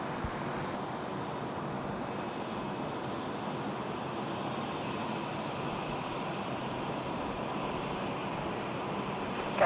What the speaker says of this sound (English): there's our Jetstar there, the A321neo off there in the new livery